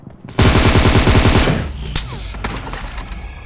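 Automatic gunfire in PUBG: a loud, rapid machine-gun burst lasting about a second, followed by ringing echoes and scattered distant shots trailing off.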